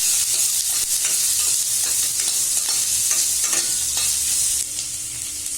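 Curry leaves and three green chilies sizzle in hot oil for a raw green tomato chutney, a steady close crackling hiss with occasional stirring scrapes, fading slightly near the end.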